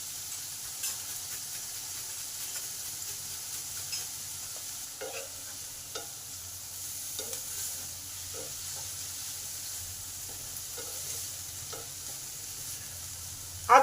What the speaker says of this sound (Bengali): আদাটা ভালো করে ভাজা হয়ে গেছে